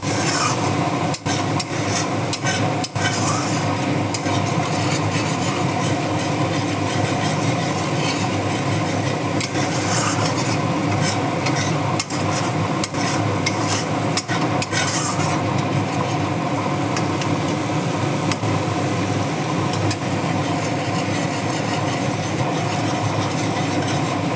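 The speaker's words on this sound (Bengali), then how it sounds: "গুঁড়ো মশলা তো বেশিক্ষণ ভাজতে হয়।" Ground spices fry in oil for a vegetarian cabbage dish, giving a steady loud rasping sizzle that runs the whole time with occasional scraping stirs and no voices.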